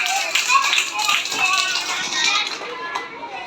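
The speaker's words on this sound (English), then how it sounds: "Clap, clap," Nursery-class children clap together in a short, bright flurry of light hand claps, close by and somewhat uneven, with voices mixed in.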